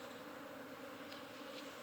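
A swarm of escaped honeybees clustered on a small branch gives a steady, low droning hum throughout, moderately faint and continuous with no talking.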